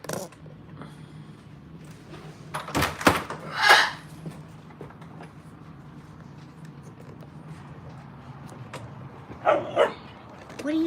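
Playful puppies bark and yip in a few short bursts against quiet room noise, with a door-like knock and brief rustling in between.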